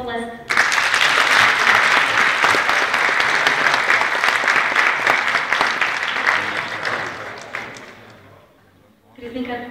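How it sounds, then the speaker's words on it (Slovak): Large audience at a school event breaks into loud, sustained applause for nearly nine seconds, then fades out before a brief new burst of clapping. "Poprosím pre nich veľký potlesk."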